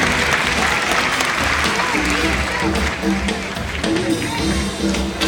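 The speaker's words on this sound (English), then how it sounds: "let's give a nice big round of applause for Finch" An audience at a Sea World sea lion show claps together in loud, sustained applause, with a voice speaking over the clapping.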